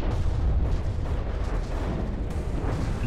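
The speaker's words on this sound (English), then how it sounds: "Oh, looks like that missile missed." Missile fire and explosions in the naval combat game From the Depths make a continuous heavy, rumbling roar of booms and blasts, dense and loud throughout with no gaps.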